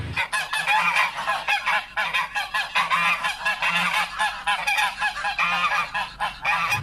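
A goose honks repeatedly in loud, close, nasal bursts with short gaps between calls, and no other sound competes.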